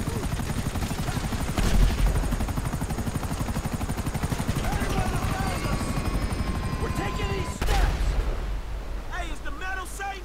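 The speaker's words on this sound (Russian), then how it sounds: "Опять вертолет." Rapid thudding helicopter rotor chop in Grand Theft Auto V runs throughout, with occasional blasts and gunfire bursts mixed in and a voice speaking over it.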